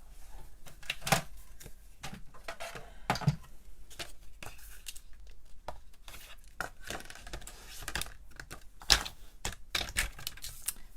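A paper trimmer slices cardstock for card making, giving a run of sharp, dry cutting clicks and scrapes at an irregular pace, close by and fairly loud, with no talking.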